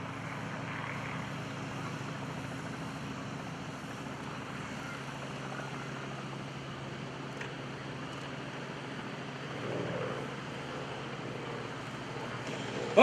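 An F-260 light attack propeller airplane, sleek and red, climbs away after takeoff at an airshow with its gear retracting, giving a steady droning engine hum that holds at a moderate distance throughout.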